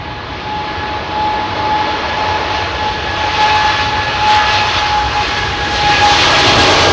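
A Boeing 777-300ER jet on a freighter run throttles up for takeoff from runway 27R at London Heathrow, a loud, sustained engine roar with a whining tone that swells gradually.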